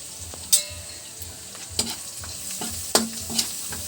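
Onion and garlic sautéing in a home kitchen pan, with quiet sizzling and a few sharp stirring scrapes and clinks spread through the few seconds, no talk.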